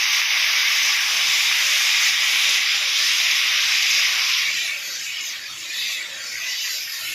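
Potatoes hitting hot oil in a pan, a loud broad sizzle that holds steady and then eases slightly toward the end, heard close up with no talk.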